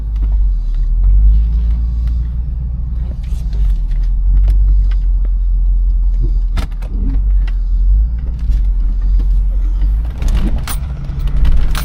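A 1996 Chevrolet Impala on coilovers drives and then reverses, its engine giving a steady, close, deep rumble throughout, with a few light clunks and rattles toward the end.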